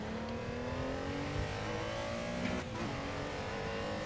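Porsche race car engine in a Sunday Super Cup racing game, holding a steady high drone as it carries speed over a crest; constant and fairly loud, with no voices.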